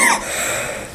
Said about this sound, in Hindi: क्या उतने पढ़ाते पढ़ाते खांसी आ जाती है यार